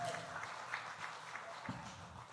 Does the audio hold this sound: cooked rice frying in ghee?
no